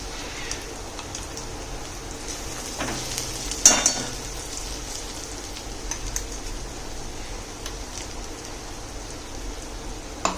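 Onions fry with turmeric and crushed masala in a pan, giving a steady, soft sizzle with occasional louder clinks and stirring scrapes.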